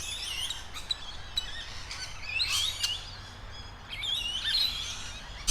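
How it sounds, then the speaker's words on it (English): Rainbow lorikeets give loud, chaotic high-pitched screeches and chattering calls in bursts, several birds overlapping over a steady outdoor background with no talking. "you can't ignore the loud calls of the Rainbow Lorikeet"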